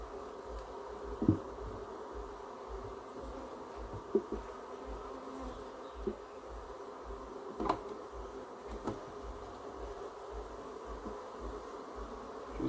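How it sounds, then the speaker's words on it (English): Bees buzzing steadily around a hive with the queen inside, a close, continuous drone with occasional soft knocks and ticks. "if you notice that bee there have pollen on its legs"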